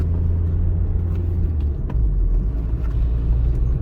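A car in second gear rolls over a speed bump on a town street, giving a steady loud engine and road rumble with a brief low thump partway through, with no talk.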